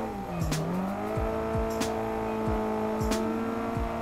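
A car drifting on a beginner-friendly drift track, its engine droning steadily while tires squeal in repeated sliding sweeps, heard from inside at moderate level with no talking.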